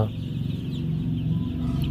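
Many young chickens, about fifteen days old, cluck continuously in a dense, steady chorus, close and constant, on a poultry farm.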